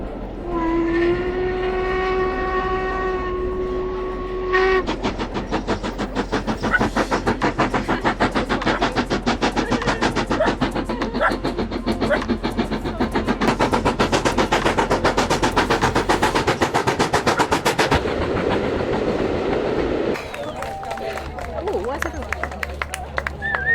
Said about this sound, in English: So apparently you clap once the train goes by.